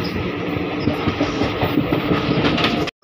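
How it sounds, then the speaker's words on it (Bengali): The Paharia Express rolls on after leaving Mecheda station, with a steady loud rumble of wagons and rhythmic clickety-clack of wheels over the rails heard from onboard before an abrupt cut near the end. "আমাদের ট্রেন ছেড়ে দিল মেচেদা স্টেশন।"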